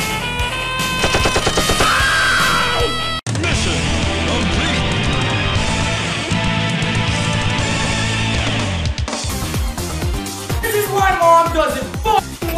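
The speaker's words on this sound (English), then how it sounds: "Heavy machine gun." Heavy machine gun fire in a fast-paced shooter video game, dense sustained bursts packed with game music and effects, while a player talks over the din.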